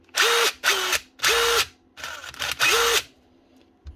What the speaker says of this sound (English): another little Dewalt, this time an impact driver. 18 volt brushless